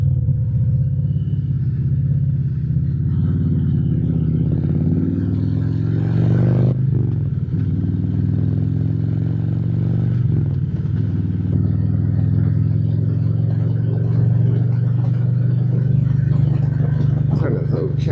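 A truck engine idles nearby early in the morning, a loud steady low rumble with slight swells, running under someone talking close to the microphone.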